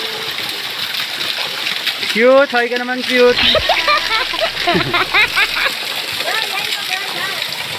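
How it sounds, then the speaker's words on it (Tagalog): Waterfall on the Banana River in Ivisan, Capiz, giving a steady broadband rush of falling water throughout, with voices talking over it and someone speaking near the start. "Ayan po ang kanilang Busay, ang Banana River ng Ibisan."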